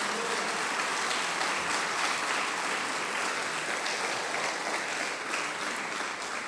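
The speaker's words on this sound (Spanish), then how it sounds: "Dele un aplauso al Señor" Church congregation clapping for the Lord during a Spanish-language sermon, a steady, fairly soft wash of many hands that holds evenly throughout with no voices standing out.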